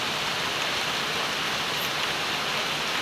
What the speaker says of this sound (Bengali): পাতার উপরে পানি পড়তেছে